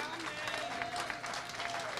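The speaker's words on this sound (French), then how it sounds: "Est-ce que vous pouvez applaudir pour vous-même?" Church congregation clapping for themselves during a sermon by a pastor, a dense, steady wash of applause filling the whole moment with a faint voice beneath.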